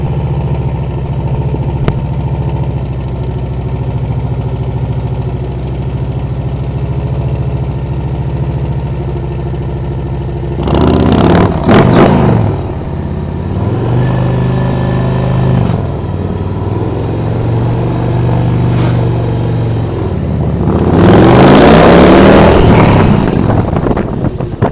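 A motorcycle fitted with a Tab Performance Redline exhaust idles with a deep, steady burble, then revs sharply twice with rising, throaty roars before settling back to idle. The sound is close and loud, with no talking.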